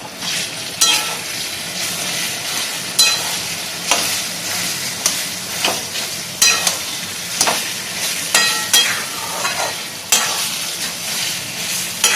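A dhokar bora mixture of lentil batter and hing is stirred and fried in a pan, giving a steady sizzle and hiss broken by repeated scraping clicks of the spoon against the pan, close and loud, with no talking.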